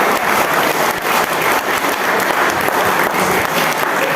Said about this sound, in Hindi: जोरदार ताली एक बेर सागर सिंह के।